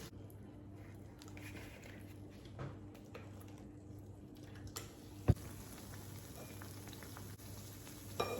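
Pantua pitha frying in oil in a pan, a soft steady bubbling sizzle that stays faint and even throughout, with a single sharp tap partway through.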